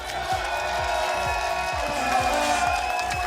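Swedish supporters at Bocuse d'Or Europe 2024 cheer and shout as a steady crowd roar, with rhythmic low thumping underneath and voices woven through the noise.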